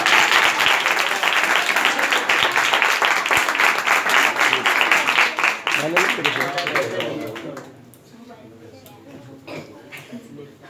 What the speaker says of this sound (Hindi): तालियां बजाएं इसके लिए।